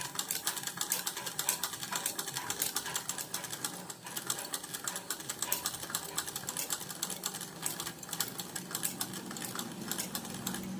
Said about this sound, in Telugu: ఈ మూల వరకు ఇలా స్టిచ్ చేసుకుంటూ రండి.